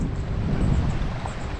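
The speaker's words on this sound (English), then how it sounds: "It's pretty windy out here." Strong wind buffets the microphone outdoors on a wavy lake, a steady, loud low rumble that fills the whole short stretch with no other sounds standing out.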